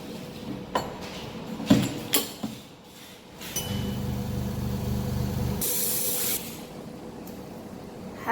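An air bubble remover machine hisses steadily for a couple of seconds during iPhone X screen lamination, following a few light clinks and taps, then a sharp burst of released air near the end.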